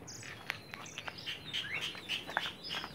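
A kacer (magpie-robin) gives several short, bright chirps and whistled notes at an irregular rhythm, faint and fairly close against a quiet background.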